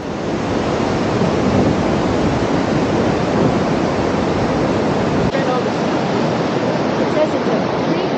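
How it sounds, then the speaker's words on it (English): A magnificent Icelandic waterfall on the route from Reykjavik toward Skaftafell roars in a loud, constant wash of rushing water, unbroken and close, with no talking over it. "we stopped at some magnificent waterfalls."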